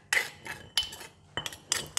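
A spoon stirring a sauce of sugar, fish sauce and lime juice in a small dish, sharp metallic clinks and scrapes in irregular bursts, close and distinct with no voices.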